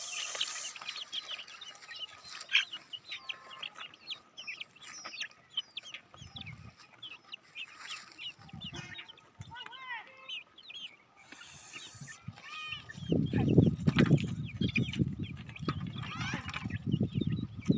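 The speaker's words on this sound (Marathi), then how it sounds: "आता कोंबडी कुठे कोंबडी का शिरा नाही शिरली" Chickens around a rural shepherd household cluck and chatter continuously at close range, with occasional louder calls, while people talk over them and some low thumps of movement come late.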